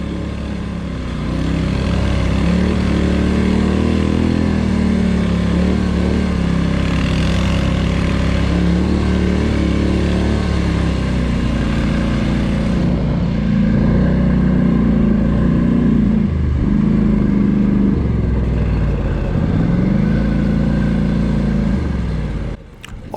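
A Polaris or Suzuki KingQuad ATV engine labors loudly and steadily while climbing a steep snowy hill, a sustained strained drone with slight pitch dips as it bogs and recovers, then cuts off abruptly.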